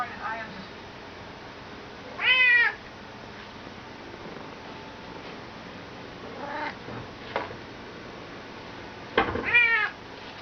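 A Bengal cat meows up close in a few separate, rising calls spread across the clip, with quiet room sound between them.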